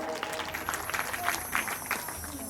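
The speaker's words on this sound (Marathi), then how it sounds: "लेकरा अजून एकदा जोरदार टाळी वाजवा" Applause at a devotional gathering, a steady patter of clapping hands from an audience, moderately loud and continuous with some crowd murmur underneath.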